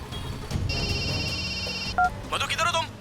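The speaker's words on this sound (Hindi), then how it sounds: "भाई रिंग हो रहा है।" A telephone rings with a steady electronic ringtone for over a second, fairly loud and close, followed by short beeps and a few sharp tonal chirps near the end, with no speech.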